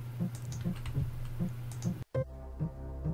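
Computer keyboard typing with a French AZERTY layout during a PC game, steady rhythmic clicks and taps at moderate volume, briefly cut off before continuing with a few more keystrokes, no talking.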